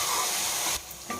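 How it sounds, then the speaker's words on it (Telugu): Onions frying in a pan for Nellore fish curry give a loud, dense sizzle that drops off abruptly near the end, then returns briefly and faintly. "ఇది ఉల్లిపాయలు సగం బాగా వేగితే సరిపోతాయి అన్నమాట"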